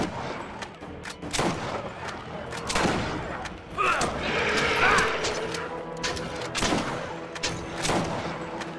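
Turret gunfire in the Borderlands video game, a dense run of loud rapid shots and impacts mixed with game effects, bursts recurring across the stretch with voices chattering in between.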